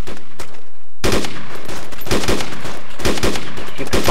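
Sustained automatic gunfire in a military video game battle, loud and close, with rapid overlapping shots rolling continuously after a brief quieter start.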